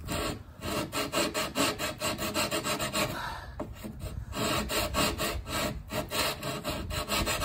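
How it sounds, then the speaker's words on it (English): Sanding block rubbing over wood to round over an edge on a Wharram Tiki 21 catamaran build, steady rhythmic rasping strokes close up, with a short pause midway before the scrubbing resumes. "Sanding block."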